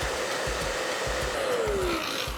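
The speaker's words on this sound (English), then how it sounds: "she heats it up first with a hairdryer" A hair dryer heats a 3D-printed figure, giving a steady, close roar of blowing air with a rapid low pulsing hum underneath and a brief rising whine near the end, with no talking.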